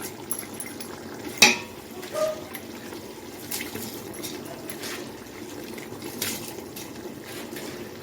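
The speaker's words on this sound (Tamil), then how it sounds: "இப்போ அரிசியை போட்டு நல்லா கிளறி விட்டுக்கோங்க" Soaked, drained rice tipped into a pot of mutton biryani and stirred, with a sharp clatter of a utensil against the pot early on, then soft scraping, wet shuffling and occasional knocks at close range.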